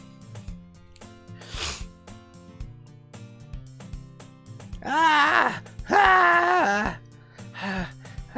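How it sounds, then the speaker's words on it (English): A character in the Doki Doki Literature Club video game breathes hard, with voiced panting and moaning gasps that swell loudest toward the end over steady background music. "She's breathing hard."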